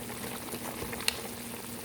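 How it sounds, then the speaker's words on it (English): Nigerian chicken tomato stew simmering in a pot, cooking in its own juices with a steady low bubbling and a faint background hiss, plus one brief click midway; no one speaks. "It's cooking in its own juice."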